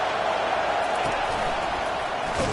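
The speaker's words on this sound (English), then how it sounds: "This crowd bringing the energy and noise early." Football stadium crowd at a college game with the Gamecocks, a broad steady roar of many voices filling the space throughout, loud and continuous with a brief swell near the end.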